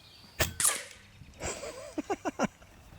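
A Benjamin Marauder semi-auto air rifle fires at a target 50 yards away. A sharp, close crack is followed by a second report, then a quick series of short pops, with no talking.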